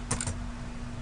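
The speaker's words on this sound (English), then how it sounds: "So type in www.google.com." A web address is typed on a computer keyboard as a brief, close cluster of two or three quick key clicks, then quiet.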